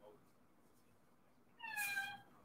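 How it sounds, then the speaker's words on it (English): Indoor cat giving a single clear, drawn-out meow, fairly close and moderately loud, after a quiet stretch of faint room sound. "Oh my God, this cat."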